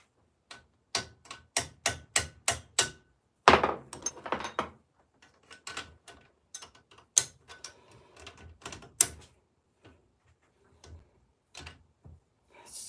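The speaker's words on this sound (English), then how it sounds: "Mini hammer." Sharp taps from a mini hammer during a bike build, a steady rhythmic run of close, crisp strikes followed by sparser, irregular knocks and small handling clatter.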